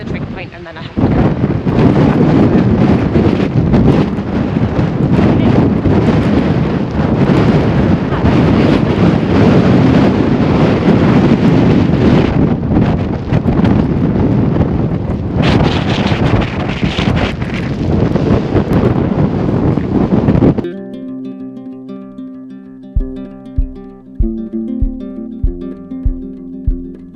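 Strong wind buffets the microphone on a hilltop trig point in Wales, a loud continuous roar with gusts lasting about twenty seconds before cutting out abruptly; quieter sporadic knocks and clicks follow.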